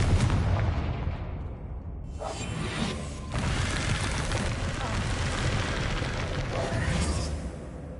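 A Confringo blasting spell fired in Hogwarts Legacy: a loud, sustained roaring burst with whooshing rushes and rumbling blasts filling the whole stretch, likely with game voices mixed in.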